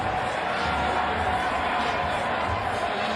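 Steady roar of a large ballpark crowd at the 2021 MLB Home Run Derby, a dense wash of cheering and chatter that carries evenly through the stretch with no single voice standing out.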